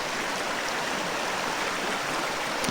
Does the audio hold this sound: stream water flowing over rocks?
yes